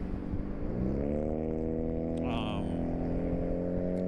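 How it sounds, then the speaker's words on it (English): A loud car passes close by a rider on an Aniioki AQ177 e-bike, its engine tone rising and sliding in pitch as it goes, steady and near throughout, with a voice briefly audible underneath. "Car's loud."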